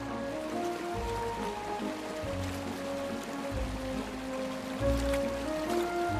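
A cold, crystal-clear Alpine mountain stream flows in a steady, even rush, with a constant mid-level wash and a soft tonal hum beneath it and no voices.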